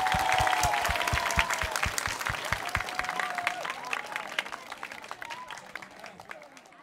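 An audience applauds singing contestants at a semi-final show, with strong rhythmic claps at first that thin and fade away, while a faint tonal sound runs underneath.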